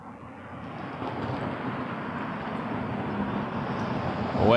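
A WestJet airliner coming in to land at Toronto Pearson Airport, heard as a steady broadband engine roar that builds gradually over several seconds and swells louder at the end, with no voices over it.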